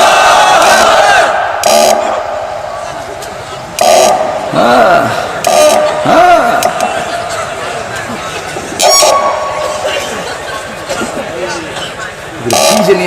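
A large crowd at a Ramadan waz sermon gathering shouts back in unison to the takbir call. The loud, massed voices come in repeated surges, mixed with a speaking voice and ambient clatter.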